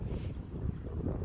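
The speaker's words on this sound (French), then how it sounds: "je ne sais pas si vous m'entendez bien, parce qu'il y a un petit peu de vent" Gusty wind buffets the microphone outdoors on a grey, rainy day, a steady low rumble with no one speaking.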